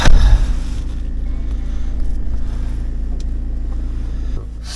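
A car engine idles after a cold start on a winter morning, a close, steady low rumble that drops slightly in level near the end.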